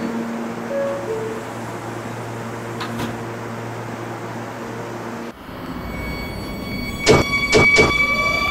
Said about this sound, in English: Stand clear of the closing doors,